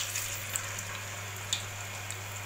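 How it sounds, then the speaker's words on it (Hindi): Potatoes frying over high heat in hot oil give a steady, quiet bubbling hiss with faint crackles, under a constant low hum and without talk. "तेज़ आंच पे फ्राई करेंगे"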